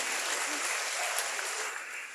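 An audience applauds at a youth forum in South Sulawesi, a dense, continuous clapping that holds steady and fades slightly toward the end.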